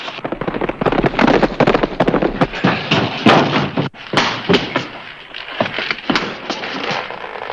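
Gunshots in a western TV episode, a dense burst of sharp loud cracks and bangs in quick succession, briefly pausing near the middle before more scattered shots follow.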